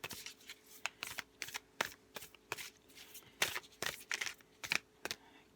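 Oracle cards being shuffled during a tarot reading, a run of crisp papery riffles and slaps in quick irregular bursts, close and fairly quiet, with no talking.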